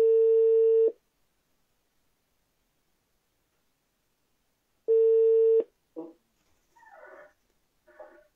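Telephone ringback tone on an outgoing call, with two steady buzzing rings separated by about four seconds of silence, followed by a few faint voice fragments.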